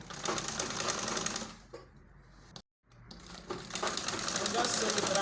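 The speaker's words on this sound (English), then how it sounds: "So just sew it round like this." A sewing machine stitches a collar onto a baby girl's gathered turtleneck gown, running in fast, close mechanical bursts that pause briefly mid-way and then resume.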